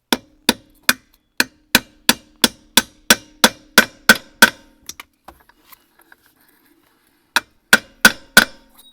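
A small hammer taps at a steady rhythm, about fourteen sharp strikes, then a pause and a few more close, loud blows, with no talk.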